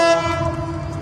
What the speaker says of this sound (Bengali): আর এখন উক্ত ট্রেনটি প্রথমবারের মতো নড়াইল অতিক্রম করে যাচ্ছে